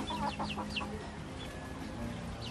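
Chickens cluck in short quick bursts near the start, then quieter background clucks over a low steady hum.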